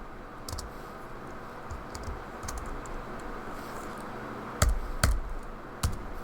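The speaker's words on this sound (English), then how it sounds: "I click on the plus icon and type in the name." Keys on a computer keyboard are tapped out while a name is entered, a scattering of light, close clicks with a few sharper, louder keystrokes near the end over a faint steady background hum.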